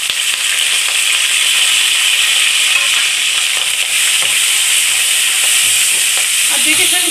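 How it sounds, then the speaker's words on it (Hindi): Onions, curry leaves and green chillies sizzle loudly in hot oil while being stirred, a dense continuous hiss with occasional scraping and spoon knocks, close and steady, with no voices. "इसको हम 4 से 5 मिनट तक इसको मैसे चला ही, जब तक हमारे प्याज हल्के से गोल्डन ब्राउन नहीं हो जाते"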